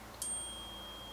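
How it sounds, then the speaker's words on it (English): A phone text message notification gives a single short, bright chime with a faint sustained tone fading after it, heard alone over a quiet room hum. "That was a text message."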